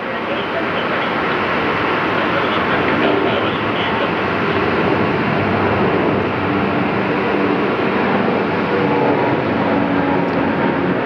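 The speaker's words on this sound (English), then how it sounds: "Touching down on 7 right now. American 1209 with 801 Alpha Whiskey." An American Airlines airliner touching down on runway 7 at Phoenix makes a loud, steady roar of broadband noise that holds evenly from start to finish.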